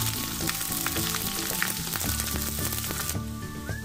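Onion leaves added to browned ginger-garlic paste frying in a pan, a dense, close sizzle with soft crackles that thins out near the end.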